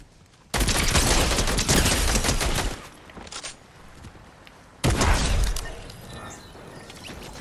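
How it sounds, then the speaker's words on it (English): Loud, dense bursts of rapid gunfire in Fortnite, two long sustained volleys separated by a brief quieter gap with a short burst, close and harsh with almost no talk over them. "They're shooting at you?"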